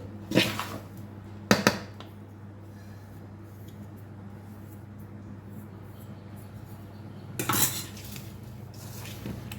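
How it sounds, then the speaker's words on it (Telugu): Hot namak para dough is mixed with oil in a bowl using a spoon, giving three loud metallic scrapes and clinks separated by quiet stretches over a low steady hum. "ఇదంతా స్పూన్తో మంచిగా కలిసేట్టు కలుపుకోవాలి."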